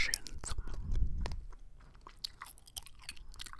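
Gum being chewed close to the microphone in an ASMR setting, with soft wet smacks and crunchy bites in an irregular rhythm, loudest early on and then quieter clicks.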